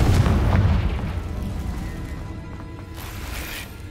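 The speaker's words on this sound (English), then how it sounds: "Revelio! Confringo!" A Confringo fire spell blasting in Hogwarts Legacy: one deep booming explosion that rolls and fades over a few seconds, loud and close with no voices.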